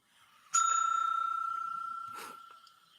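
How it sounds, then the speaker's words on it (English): A single bell strikes sharply and rings on with a clear sustained tone that slowly fades; a soft knock sounds near the end, with no talking. "that's where the bell comes in"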